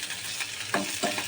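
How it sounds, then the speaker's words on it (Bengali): Onions frying in a pan, a dense close hiss of sizzling oil with two short bursts of stirring or tossing, no voices. "এখন মাংস কমিয়ে রেখে আমি এখন এই পেঁয়াজটাকে ভাজছি"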